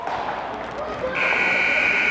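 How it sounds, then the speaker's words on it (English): A hockey end-of-period buzzer sounds at a high school game, a steady electronic tone that begins partway through and holds to the end over crowd murmur in the rink. "and we'll go down to the buzzer."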